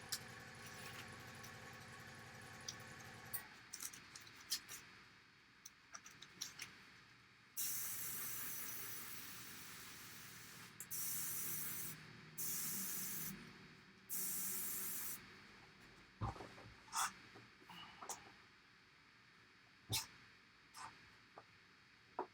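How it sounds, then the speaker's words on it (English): Airbrush spraying brown paint in short hissing bursts, several sustained sprays of a few seconds each with pauses between, plus clicks and handling noises, and someone talking at times. "while I have a little bit of brown in the airbrush"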